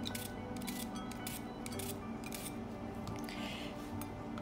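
An English cucumber sliced thin with a knife for pasta salad, a quick series of crisp cutting snips in steady rhythm, close and clear with no talk.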